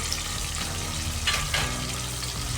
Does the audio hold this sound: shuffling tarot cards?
no